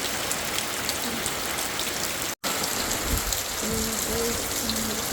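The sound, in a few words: heavy rain with wind during a typhoon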